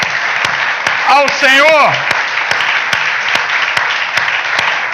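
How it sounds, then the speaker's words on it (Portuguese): Church congregation clapping during a Portuguese-language worship service: scattered, sharp individual claps ring out at irregular intervals while a voice briefly calls out over them. "Pode dar uma salva de palmas para o Senhor"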